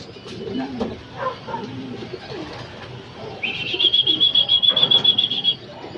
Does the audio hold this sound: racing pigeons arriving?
yes